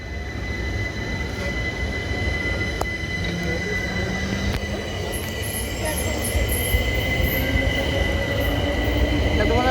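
A train rolling through East Croydon station, its loud, continuous rumble and wheel noise close by, with faint high squeals from the rails and brief voices in the background.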